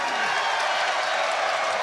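Wrestling arena crowd cheering in a dense, continuous roar with clapping mixed in, loud and sustained throughout.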